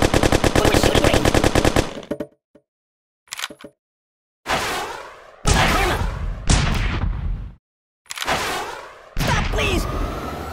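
Bursts of rapid gunfire in the game Kick The Buddy, fired at a ragdoll buddy on a shooting range. They come as loud, close volleys broken by short silences, with sharp cracks and rattles.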